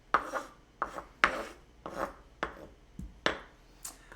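Chopped apple is scraped aside on a cutting board while making a five-ingredient apple mug cake, heard as a series of about seven short, close scraping strokes in an uneven rhythm.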